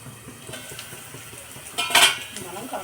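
A metal lid set down on a cooking pot during egg tempering, giving a brief bright clatter near the two-second mark over soft kitchen handling noise.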